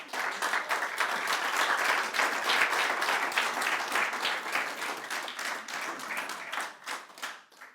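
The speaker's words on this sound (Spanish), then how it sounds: "Démosle un fuerte aplauso al Señor." A church congregation gives a strong round of applause to the Lord during a sermon, a dense, steady clapping from many hands that holds loud for several seconds and then tapers off near the end.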